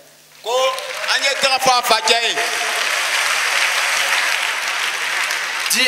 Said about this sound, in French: Acclamons pour son père.